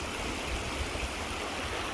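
A mountain stream rushes steadily nearby, a dense constant wash of flowing water with no voices.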